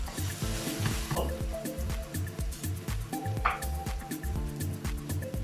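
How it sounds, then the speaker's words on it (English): Chopped onion frying in a hot pan for garlic chilli paneer masala, a loud continuous sizzle and crackle with repeated scraping clatter of a spatula and some tonal ringing from the cookware. "I add nearly 1 medium-sized onion, chopped onion here"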